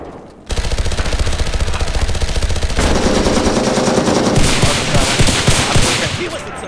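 Rapid automatic machine gun fire in a multiplayer shooter video game, loud and continuous, dense sustained bursts with overlapping shots that grow busier toward the end.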